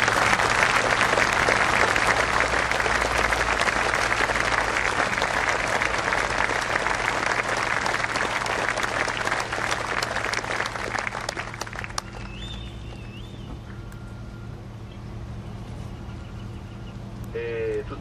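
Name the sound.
crowd applause in tribute to a deceased cyclist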